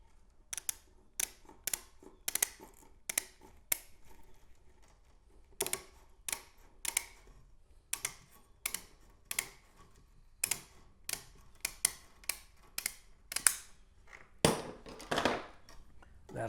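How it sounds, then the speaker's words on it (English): Scissors snip through metal hardware cloth while trimming a hatching tray for an incubator, a series of sharp, crisp cuts in an uneven rhythm that ends with a longer rasping cut. The cuts are close and fairly faint. "you can cut it with scissors"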